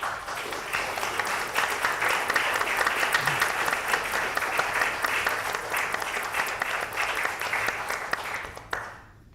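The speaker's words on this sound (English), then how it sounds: "No, the applause again." A room of people applauds at a board meeting, dense sustained clapping at moderate distance that holds steady for several seconds before tapering off and stopping.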